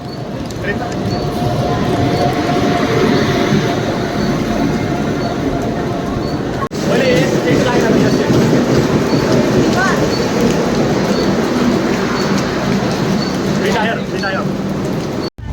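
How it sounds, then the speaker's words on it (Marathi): Steady loud rumble and rushing noise of an express train pulling into a station, with a brief dropout midway and people talking underneath. "तर मित्रांनो फायनली आपली गाडी आलेली आहे"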